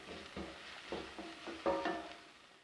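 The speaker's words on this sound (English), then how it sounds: "Then add the minced chilli and coriander stalks and cook for a further 1 minute." Minced chilli and coriander stalks sautéing in oil in a frying pan, faint sizzling with a few soft rhythmic scraping stirs, quiet and close with no voices.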